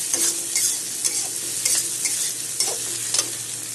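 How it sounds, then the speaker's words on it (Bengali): Ginger, green chilli, garlic and chopped onion fry in a pan, a loud continuous sizzle broken by regular scraping spatula strokes every half second or so, close up with no one talking. "এগুলো এখন পেঁয়াজের সাথে ভেজে নেব।"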